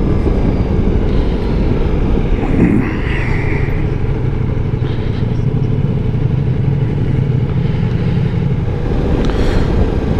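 A Ducati Multistrada V4 motorcycle being ridden on a break-in ride, its loud engine drone and wind roar continuous and close throughout.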